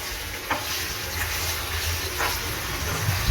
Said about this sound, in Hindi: चिकन हमने ऐड कर ली है इसके अंदर, अब हम इसको फ्राई करते हैं